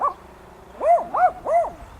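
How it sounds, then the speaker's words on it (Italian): Dogs bark behind a villa on a hillside outside Quartu Sant'Elena, a yelp followed by three quick, tonal barks, close and fairly loud. "Qui dietro ci sono i cani che mi stanno abbaiando."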